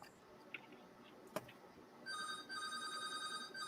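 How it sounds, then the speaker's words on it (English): A telephone rings in a room, its steady electronic trill starting partway through and continuing, fairly quiet, after a couple of faint clicks. "Somebody's phone's ringing."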